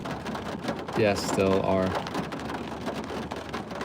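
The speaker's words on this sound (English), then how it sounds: "It's raining like hell." Heavy rain drums steadily on surfaces throughout, a dense hiss with occasional rumbling, while someone speaks briefly over it.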